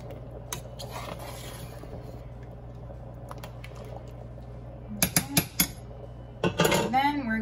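A spoon scrapes and clinks against a pot of stew peas as black pepper, onion powder and garlic powder are stirred in, with soft background hum and a few sharp metallic knocks near the end.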